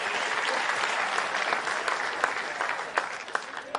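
A crowd at a Mike Pence political rally in Lancaster, Pennsylvania applauds a well-spoken young girl, a full, dense burst of clapping with a few sharper individual claps standing out near the end.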